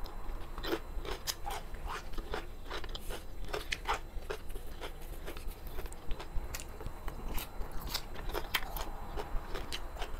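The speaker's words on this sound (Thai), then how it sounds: "ส้มตำของเราเสร็จแล้วนะคะมากินกันเลยค่ะ" Crunchy kohlrabi som tam salad being eaten up close, a steady run of crisp bites and wet chewing crunches repeating every second or so, fairly quiet against a low background hum.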